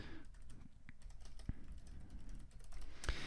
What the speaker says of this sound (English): you simply type in their email address